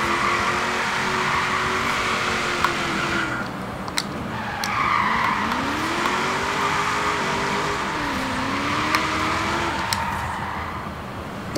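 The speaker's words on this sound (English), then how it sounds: "This thing's quite good for drifting as well, look." A car drifts in Forza Horizon 4, its tires squealing in long sweeping wails that rise and fall over a constant engine roar. The sound is loud and close throughout.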